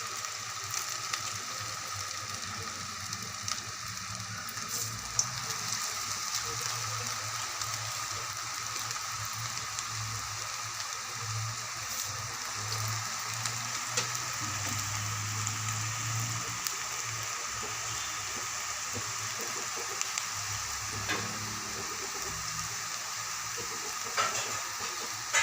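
Chakli pressed into hot oil and deep-frying one by one, a steady, continuous sizzle and bubbling that holds evenly throughout with no talking.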